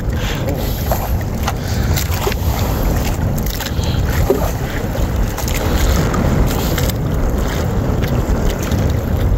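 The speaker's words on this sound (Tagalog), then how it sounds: "Mahangin po." Strong, constant coastal wind roars and buffets across the recording during blue crab catching, with scattered knocks and rustles underneath and no clear voices.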